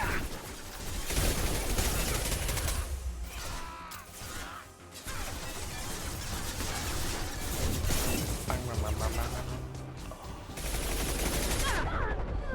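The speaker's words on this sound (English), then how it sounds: "I just have to shoot from here then, I guess" Rapid gunfire from shooting at targets in a space-themed video game, a dense, continuous run of shots layered with music and game effects, with brief lulls near four and eleven seconds.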